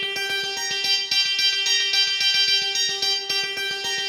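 A second guitar layer joins a track recreation: distorted, gritty electric tones stacked over a fast steady pulse of clipped hits, dense and loud with no talking.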